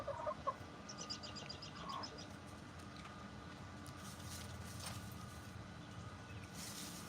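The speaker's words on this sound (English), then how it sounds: "These aren't those girls. These are egg layers." Egg-laying hens cluck in short, soft bursts near a farm cornfield. The calls come early and again around two seconds over a low, steady outdoor background.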